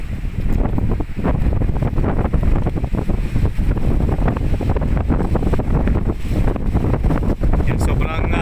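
Strong wind buffets the microphone in loud, continuous gusts beside an abandoned palace high on a rock, with crashing waves rumbling beneath the roar.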